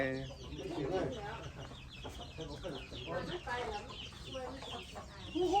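Several hens cluck and squawk close by in an ongoing jumble of calls near a rice field, with people talking now and then.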